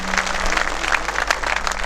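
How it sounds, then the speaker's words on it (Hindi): An audience at a community gathering applauds, a dense steady patter of many hands clapping together with a low hum underneath. "सब ताली बजाओ पंचवटी के नाम के ऊपर।"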